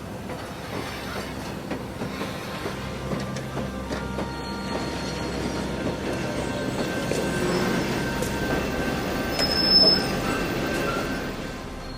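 A train rumbles steadily along the rails, a continuous low roar with faint metallic squeals and clatter, fairly close.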